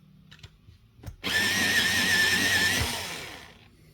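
An electric sharpener sharpens a colored pencil with a sudden motor whir and grinding that runs about a second and a half, then winds down, preceded by faint handling clicks, up close.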